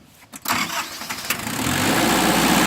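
A Shibaura D43F four-wheel-drive front loader tractor engine cranks briefly, then catches and settles into a loud, steady diesel idle up close.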